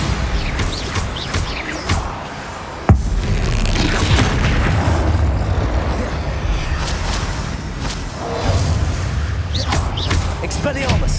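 Bombarda explosion spell from the video game Hogwarts Legacy, a sharp crack near three seconds followed by sustained booming rumble and deep thuds under constant battle din, with voices calling out over the action.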